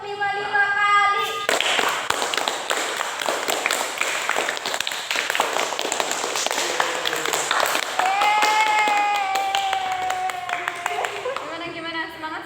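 High school students clap together in a classroom session, a burst of fairly loud, dense group claps mixed with overlapping voices and chatter throughout.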